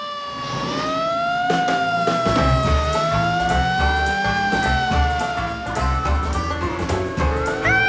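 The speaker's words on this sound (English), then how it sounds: "You want to get the siren, George?" A loud cartoon fire engine siren at a firemen's muster rises and falls in long sweeping tones, close and continuous, over a low engine rumble.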